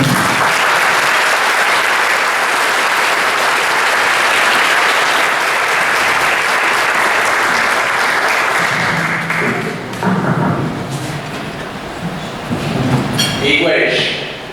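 An audience applauds to welcome a speaker at a talk on diversity, equity and inclusion in a historic place, loud sustained clapping from a full room that fades out toward the end.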